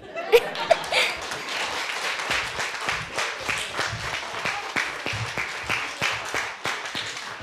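Audience at a storytelling event clapping with scattered laughter, a few sharp individual claps at first, then a ragged, moderately loud round of applause with chuckles mixed in.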